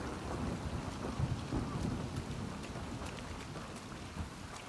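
Rain falls steadily in The Last of Us Part II, in a forest setting with wooden huts. It makes a dense hiss, and a low rumble of thunder rolls underneath it.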